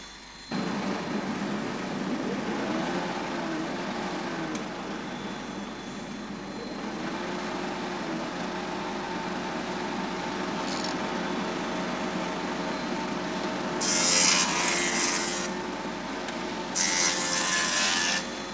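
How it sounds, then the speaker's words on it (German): A high-speed milling machine turning at 6000 rpm, used in cutlery handle-making, runs steadily with a constant whine and hum, rising briefly into louder, hissier bursts near the end. "Dies ist eine hochtourige Fräsmaschine mit 6000 Umdrehungen in der Minute"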